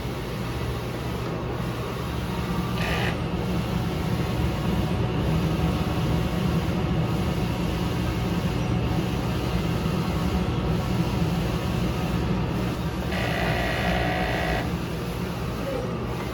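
A Smart 6ft single-head sublimation printer runs its head cleaning cycle, a steady mechanical whir and hum with short motor bursts around a few seconds in and again near the end.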